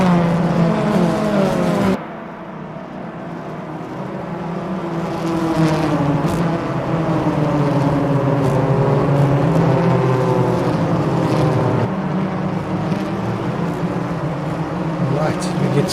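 BTCC touring cars circulate slowly behind the safety car at Oulton Park, their engines a steady, fairly loud drone that swells slightly as the pack passes, with commentary running over it.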